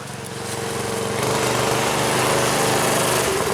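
A small, high-revving Predator 212 Hemi engine on a Doodle Bug mini bike drones steadily, growing slightly louder as it nears up a driveway, with a buzzy, lawn-mower-like tone and no talking.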